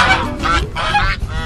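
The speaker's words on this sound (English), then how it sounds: "We're chasing the herds of ducks away." Ducks on a bike path beside the Rhine honk and squawk loudly in a quick burst of three or four close calls as they are chased off.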